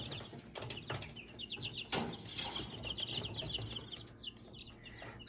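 Young chicks kept in a pen on a mesh floor, giving quiet, rapid high peeps in quick repeated bursts, with occasional rustles and knocks close by.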